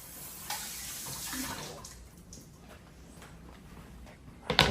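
Celery is washed under a running kitchen tap as a steady stream of water splashes. A louder clatter comes at the very end.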